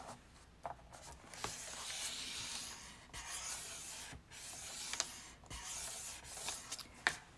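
A scoring tool drawn along a sheet of paper at the 5-inch mark for a paper bag, giving repeated soft scratchy strokes with short pauses, close and fairly quiet.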